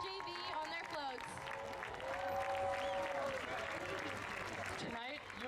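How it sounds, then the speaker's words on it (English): A crowd at a high school homecoming football game applauds the Mira Costa varsity and JV dance teams on their floats, a steady wash of clapping and cheering with voices mixed in. "Please put your hands together for the Mira Costa dance teams, both varsity and JV, on their floats."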